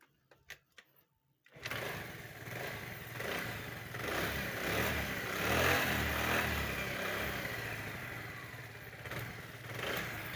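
Honda Vario, Beat or Scoopy scooter engine after a carburetor and air filter service, starting after a brief pause and quiet clicks, then running loud and close with smooth revving swells and a steady buzzing tone for several seconds.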